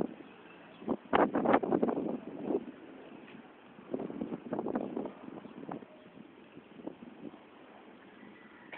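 Gusty wind buffeting the microphone in rough bursts, loud swells around the first and fifth seconds, easing between gusts; no speech.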